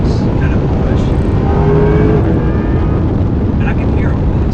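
Corvette E-Ray driven hard on a race track, heard from inside as a loud, steady roaring drone with a rising whine, while voices talk over it.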